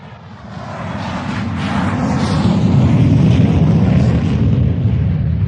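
A British Airways airliner roars on takeoff, a loud, broad engine rumble that swells over the first seconds and then holds steady, heard as though from inside the cabin.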